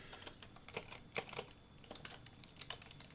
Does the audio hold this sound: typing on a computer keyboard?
yes